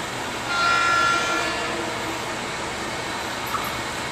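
Broadband rumble of a Bombardier M7A electric commuter train on the Metro-North Harlem Line rolling into White Plains station, steady and fairly close, with a brief high whine near the start and a faint tone later.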